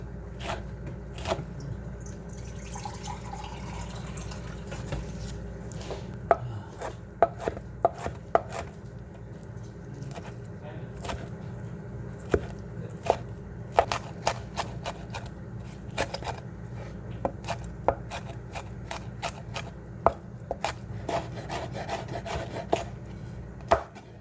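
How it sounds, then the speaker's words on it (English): A knife cuts peeled, tender pork for chile verde into little slices on a cutting board in a home kitchen, with steady, close, crisp chops and taps repeating for a long stretch with no talk. "So now we're just going to cut it this way, little slices."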